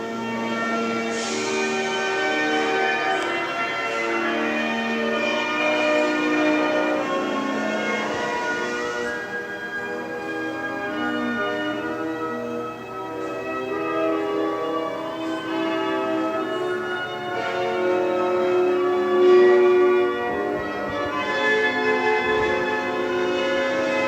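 A bell rings at Independence Hall, loud, rich and sustained, its overlapping tones droning steadily without pause.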